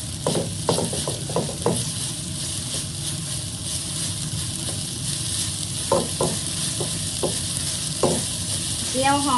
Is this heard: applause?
no